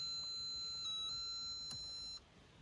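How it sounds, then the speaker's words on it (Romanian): Mobile phone ringing faintly, a high electronic tone that holds for a couple of seconds with a brief louder burst before it cuts off, over a quiet room. "Stați un pic, că îmi sună telefonul."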